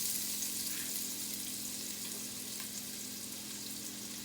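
Finely chopped onions fry in a small amount of oil, making a continuous, even, bright sizzle that stays fairly loud and steady throughout, with no voices.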